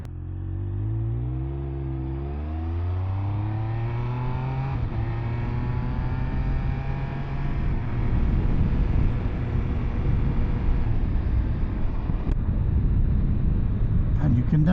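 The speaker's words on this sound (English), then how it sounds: "the sound of a triple has always been intoxicating to me" A Triumph Speed Triple 1200 RS triple-cylinder engine climbing through the revs in a run of quick upshifts, each gear rising in pitch, then holding a steady loud drone with wind roar, close and continuous.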